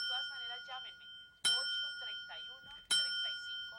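Two bright, ringing notification-bell dings strike about 1.5 seconds apart, each decaying slowly with sustained harmonic tones, heard under and between continuous talking.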